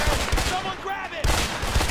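Rapid gunfire in the video game A Way Out, loud close bursts that drop off briefly in the middle and then resume just as hard.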